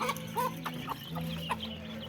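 Several hens cluck in short, repeated bursts over a steady low hum, with overlapping calls from a nearby flock.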